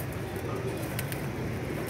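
Soft pigeon coos rise from a steady, noisy background, faint and somewhat distant, with a few brief higher sounds scattered through.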